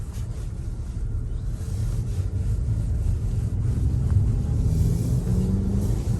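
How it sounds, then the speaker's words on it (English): A 2021 Jaguar XF sedan on a test drive in comfort mode, heard from inside as a steady low road and engine rumble with faint wind noise, no talking. "It's time to take it for a test drive and see how it handles on the road."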